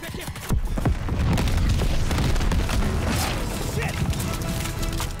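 Explosion in the World War II shooter Vanguard: a heavy booming blast followed by a sustained rumbling roar of debris and fire, loud and close, with scattered crackles.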